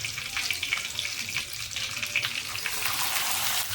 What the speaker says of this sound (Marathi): कढीपत्ता, कढीपत्त्याचा आवाज आला